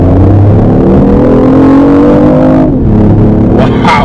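A BMW i8 in sport mode, a loud, close engine drone with rising and falling harmonic tones as the revs are held high, then a brief dip and a sharp surge near the end.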